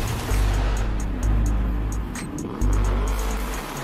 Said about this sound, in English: he purchased the orange pearl capsule version of the Lamborghini Urus and threw the loudest exhaust on it